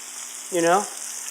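Catfish steaks dropping into hot oil give a single brief sizzle burst lasting about a third of a second, close and moderately loud, then the quiet pan settles back to a low steady hiss.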